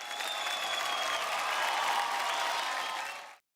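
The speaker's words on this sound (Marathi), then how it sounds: "जोरदार टाळ्या पुन्हा एकदा" Strong audience applause at a Marathi television talent show fills the hall, a dense, steady wash of clapping that holds at full volume before ending abruptly.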